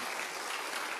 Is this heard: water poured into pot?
no